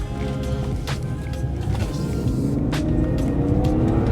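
A BMW E46 325xi with a freshly replaced driveshaft center bearing pulls uphill, its engine droning steadily and rising slowly in pitch under load, heard from inside the car.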